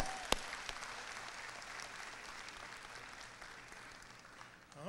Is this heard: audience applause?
yes